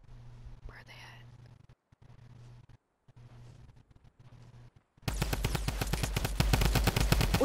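A drum gun in a video game fires a loud, rapid automatic burst that begins about two thirds of the way in and runs to the end, after a quieter stretch of faint whispered talk and game ambience.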